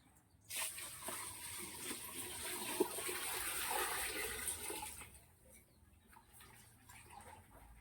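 Cow urine poured into a mix for panchagavyam, an organic farming preparation, as a steady liquid rush that starts abruptly, runs for about four seconds close by, then drops to a faint trickle.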